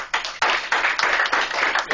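Football team clapping together in unison after finishing running drills on the field, a quick series of sharp, fairly even claps, mid-distance and alone.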